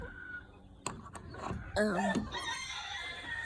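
Chickens cluck inside a chicken coop during morning chores, a few close, bright squawking calls amid scuffling and rustling nearby.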